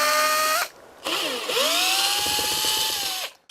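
A power drill runs close by, removing screws from RV corner molding, with a whining motor that pauses briefly, then spins up again and holds steady for about two seconds before stopping.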